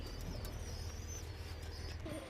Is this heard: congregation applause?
no